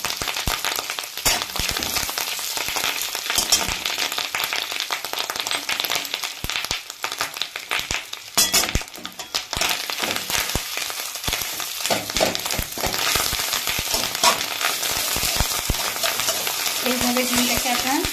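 Fish roe being stirred and scrambled in a frying pan, a steady sizzle with repeated scraping strokes running throughout, loud and close, with no talking.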